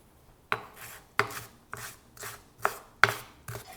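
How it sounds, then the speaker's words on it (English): Rough knife chopping of already-sliced pantry ingredients for a pasta salad, six distinct close board strikes spaced about half a second apart, alone without talk. "I am gonna give them just a little bit of a rough chop"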